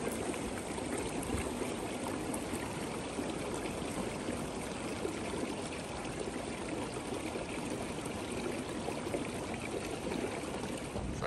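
Steady rushing and splashing of a small waterfall on a forest creek trail, continuous and fairly close, with no voices over the broad even wash of sound.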